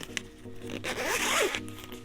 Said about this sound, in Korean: 지퍼를 열면